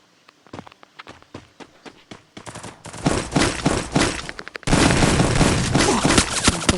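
Rapid gunfire in a shooting video game, starting as scattered single shots and building into dense, loud bursts of continuous automatic fire, with footstep-like clatter early on.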